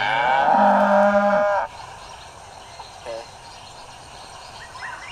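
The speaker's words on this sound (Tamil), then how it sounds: "ராஜுவை பார்த்த மாடு கத்திக்கிட்டே இருந்துச்சு." A cow lets out a single loud, drawn-out moo up close, then quiet outdoor ambience follows with faint bird calls.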